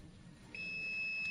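A NEPTO multitester's continuity buzzer sounds one steady, high-pitched electronic beep that starts midway and holds to the end over faint background noise.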